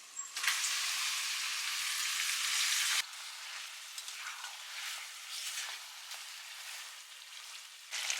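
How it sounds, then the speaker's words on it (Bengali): Marinated chicken hits a pan of frying onion and ginger-garlic paste for a Kolkata-style biryani, giving a loud, dense sizzle for three seconds that then drops to a quieter, crackling fry with stirring. "এবার ম্যারিনেটেড চিকেনটা দিয়ে দিচ্ছি।"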